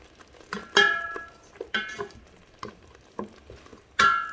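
Beef, ground chili and spices frying in a pot for a peanut mafé sauce, with bursts of stirring and sizzling scrapes recurring every second or so, close and moderately loud.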